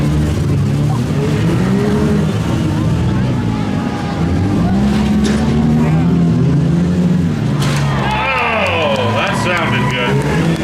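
A demolition derby car at a mini smash heat in Beeton, Ontario revs and strains to find gears, loud engine roar rising and falling with crowd noise and an announcer talking over it.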